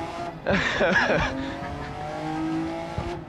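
Race car engine and tyre noise as the car is spun off the track in GRID Legends, with a sharp burst of skidding squeal followed by a steady engine drone.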